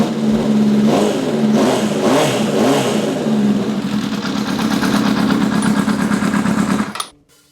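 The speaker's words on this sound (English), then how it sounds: "This is the loudest of the 3 mufflers that I have to show you from Delcovic Australia." Motorcycle fitted with the loudest of three Delcovic aftermarket mufflers revs hard and close, with repeated throttle blips, a sustained deep roar, then an abrupt cut to near silence at the end.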